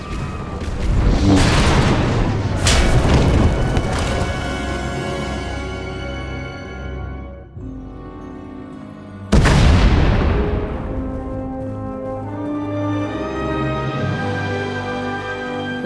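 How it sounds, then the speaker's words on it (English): Deep explosions in the Star Wars: The Old Republic video game shake a collapsing tunnel: two heavy booming blasts, each followed by a long rumbling, ringing decay, loud and close with no voices. "We heard explosions. The tunnel collapsed."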